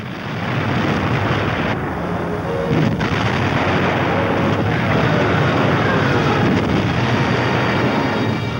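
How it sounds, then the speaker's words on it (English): Deep, continuous rumbling roar as internal explosions rupture a sinking freighter's hull during the Battle of the Atlantic, loud and sustained with a few sharper thuds, no voices. "Internal explosions rupturing her hull."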